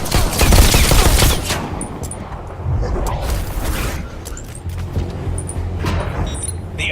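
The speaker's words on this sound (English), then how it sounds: "Now try to shoot the targets as they appear." Gunfire at pop-up targets in the VR shooter Bullet Train, a loud burst of rapid shots at the start followed by further bursts and sharp impacts amid clattering mechanical noise.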